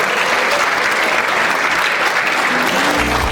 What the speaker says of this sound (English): give a round of applause to your teachers, to your parents, and to your mentors